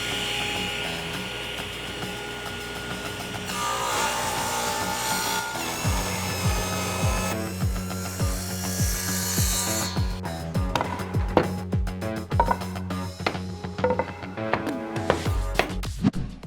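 Power saw ripping wood strips for a faux butcher block desk top, a steady whining cut with rhythmic grinding pulses through the second half, close and loud with no talking.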